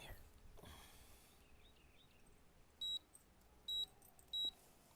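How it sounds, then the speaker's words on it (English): Three short electronic beeps sound at even intervals in a quiet room, each brief and clear after faint earlier noises. "Beep, beep, beep."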